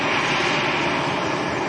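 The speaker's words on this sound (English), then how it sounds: "So this is EasyJet from Bordeaux." A steady, loud jet roar from an EasyJet airliner with Austrian registration OE-IVF, arrived from Bordeaux at Lanzarote Airport, fills the whole moment without a break or any voice.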